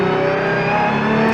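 Hypercar engine revving loudly on a handling track, a close, sustained mid-pitched mechanical roar with a steady tone throughout the short burst.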